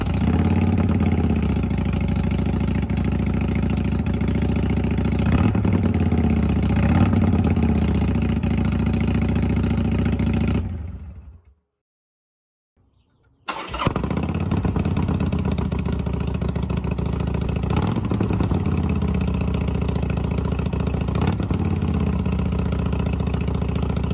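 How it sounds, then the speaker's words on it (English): A motorcycle idles on 3-inch twin slash slip-on exhausts fitted with Vance and Hines quiet baffles, a steady close rumble with small revs, cut off by a couple of seconds of silence before the idle resumes. "I'm going to show you guys a footage of the before and after sound of the exhaust."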